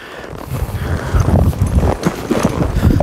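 Horse hooves clip-clopping in a steady rhythm as the horse does a right roll back and lopes off, close and fairly loud, with no talk over it.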